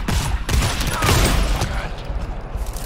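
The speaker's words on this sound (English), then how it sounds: "Oh, that's a turret I'm building." A player-built turret in the co-op shooter GTFO fires a loud, dense burst of rapid shots for a few seconds, harsh and close, tapering slightly at the end.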